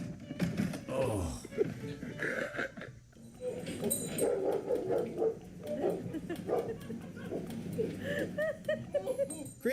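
Several dogs bark, yip and whimper in rapid, overlapping bursts close by, with a voice speaking briefly among them.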